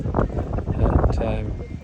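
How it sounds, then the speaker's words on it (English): Wind buffets an outdoor microphone on a windy day around horses, a low rumbling roar with gusty swells and a voice talking over it. "Windy day"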